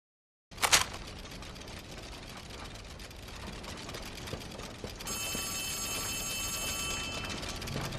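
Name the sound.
telephone ringing in video game Poppy Playtime Chapter 4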